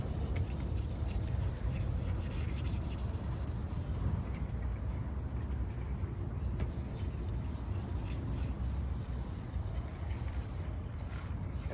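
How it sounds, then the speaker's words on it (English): Steady abrasive rubbing of 600-grit sandpaper in a car's engine bay, a continuous soft scratchy hiss with even strokes, quiet and close, without talk. "This is now I'm sanding with 600, not 800"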